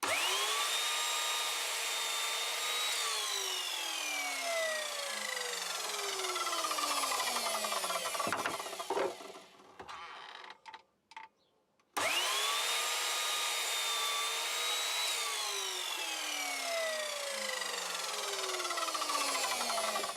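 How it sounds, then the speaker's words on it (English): Evolution crosscut saw cutting scrap wood: a steady loud motor whine with a falling pitch sweep, a brief drop to near quiet in the middle, then the whine starts again and holds, close by, with no talk. "I'll cut them on my Evolution crosscut saw"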